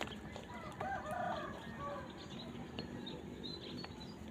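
Bird calls ring out across a wide open hunting area outdoors, a rooster-like crowing and clucking at moderate distance over steady background ambience, with no talking.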